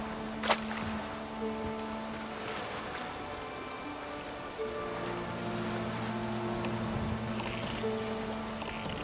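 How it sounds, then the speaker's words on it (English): Steady heavy rain in The Witcher 3: Wild Hunt hisses continuously with scattered droplet patters and a low rumble, no voices, a sustained dense wash of downpour. "Stay in the castle with it pouring like this."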